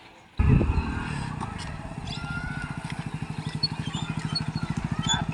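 A motorcycle engine starts abruptly and settles into a steady, rhythmic idle, chugging close by with a regular pulse.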